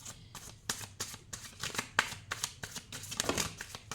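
Tarot cards are shuffled close by in quick, repeated riffling bursts, crisp papery flutters following one another for several seconds with no voice over them.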